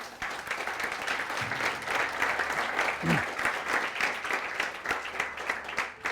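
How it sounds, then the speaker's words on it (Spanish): A church congregation claps and applauds together, a dense sustained wash of hand claps lasting throughout, fairly loud and close, with faint voices and cheers mixed in. "¿Cuánto le dan un aplauso al Señor?"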